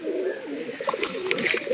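Newly added pigeons in a loft give a brief, low cooing murmur, steady and fairly close, with no voices.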